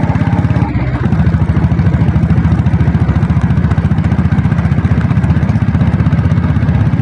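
A 7.5 HP diesel Royal Enfield Bullet motorcycle engine idles steadily up close, a rapid, even low-pitched chugging beat that runs throughout with no voices.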